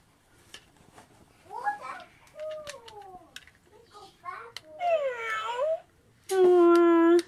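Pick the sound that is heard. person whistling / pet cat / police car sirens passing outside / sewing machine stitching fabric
pet cat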